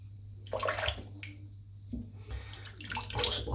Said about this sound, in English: Little splash of water.